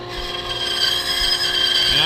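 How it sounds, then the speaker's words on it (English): A bandsaw hums with a steady whine as it cuts a wooden catapult part in a workshop, a continuous, even machine tone held close by. "That line's just going to go right towards the bandsaw blade."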